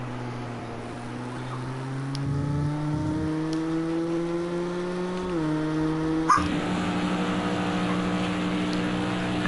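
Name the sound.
race car at Le Mans qualifying entering hairpin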